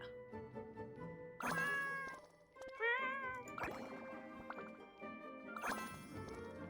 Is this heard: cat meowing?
yes